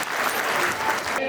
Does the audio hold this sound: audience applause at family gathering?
yes